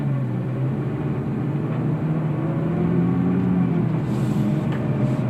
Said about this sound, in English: You hear the transmission doing this, shifting down to the lower points